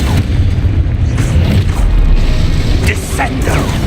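A Confringo blasting curse in the video game Hogwarts Legacy detonates in loud, booming blasts with crackling debris, layered over continuous game rumble while a voice speaks.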